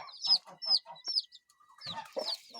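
A hen clucks near her chicks during morning poultry feeding, a string of short close clucks with high peeping calls, a brief pause, then more clucking and chirping.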